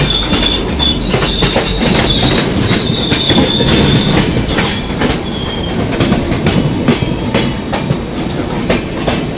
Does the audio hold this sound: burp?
no